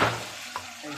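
Paneer fries in a pan for a brief, steady close sizzle with a faint hiss and a single small tap midway.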